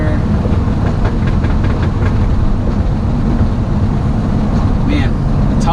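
A 2000 Audi B5 S4 engine pulls hard above 5,500 RPM, converted back to all-wheel drive, giving a loud, dense, unbroken roar that fills the whole stretch without letting up.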